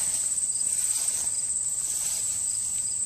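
Crickets or similar insects outdoors: a steady, high, pulsing chirp throughout, fairly close and even, with no talk.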